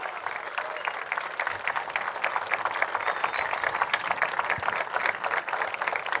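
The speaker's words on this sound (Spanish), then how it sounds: "Un aplauso enorme para Néstor" Sustained applause from an audience, greeting the mayor of Lanús, Néstor Grindetti, with a dense, steady patter of many hands clapping at a moderate distance, continuing evenly throughout without pause.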